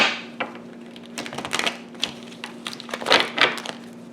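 Tarot cards being shuffled by hand, with a run of uneven crisp riffles and taps close to the microphone over a steady low hum, stiff and irregular.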